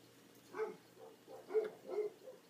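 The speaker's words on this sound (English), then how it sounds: "shut up dogs" Several dogs bark at a distance, a handful of muffled barks spaced irregularly over a couple of seconds, fairly faint against a quiet indoor background.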